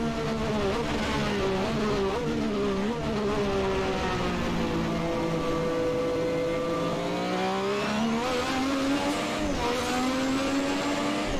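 A McLaren MP4/4 Formula One car in Assetto Corsa braking into the Tosa hairpin with heel-and-toe downshifts, its high, buzzing engine note falling and blipping back up through the gears, loud and continuous without any talk.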